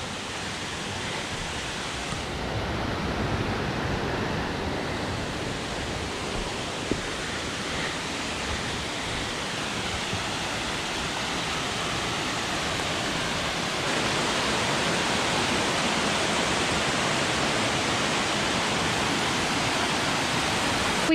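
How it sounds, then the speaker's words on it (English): Water cascades along a mountain trail in the Adirondack High Peaks of New York, a steady broadband rush that stays constant and moderately loud for the whole stretch, with no voices. "Some very pretty water cascades here"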